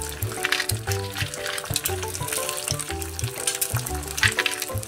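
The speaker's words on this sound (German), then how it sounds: "dann gebe ich in die warme oder heiße Butter die Wachteleichen rein" Quail eggs fry in hot butter in a pan, giving a steady crackling sizzle with scattered pops, close and alone with no talk.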